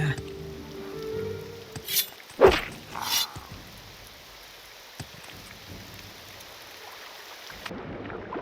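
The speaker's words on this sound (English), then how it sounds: "Here comes the rain." Rain falls steadily in the fantasy game Morrowind with the Tamriel Rebuilt mod, a soft continuous patter that builds after a few loud thunder-like rumbles and gusts, then cuts off near the end.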